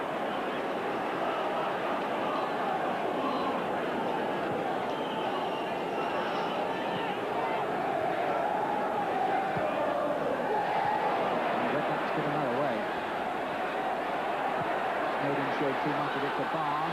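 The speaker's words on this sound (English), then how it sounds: "Crowd now starting to get much more animated." Football stadium crowd at an Everton vs Liverpool derby in the 1992-93 season, a dense, steady roar of thousands of voices that swells slightly as play builds, with indistinct chatter mixed throughout.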